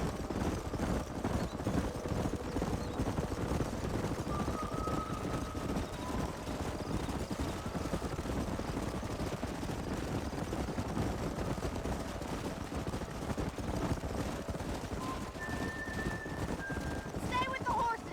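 Horses galloping through a canyon in the game Red Dead Redemption, a dense continuous drumming of hooves under wind and game sound, with voices speaking over the pounding.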